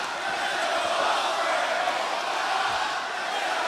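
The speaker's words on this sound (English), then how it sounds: "Fans trying to cheer Ospreay on," A wrestling crowd cheers Ospreay on during an AEW match, a loud, dense, continuous roar of many voices filling the arena without a break.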